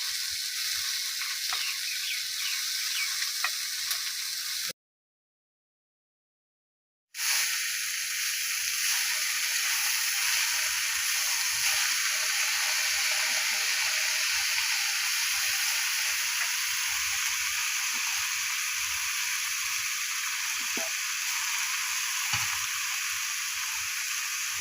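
Jhimai greens, a leafy vegetable, frying in a pan as part of a home-cooked meal, giving a steady soft sizzle and hiss that runs on alone, broken by one brief silent gap.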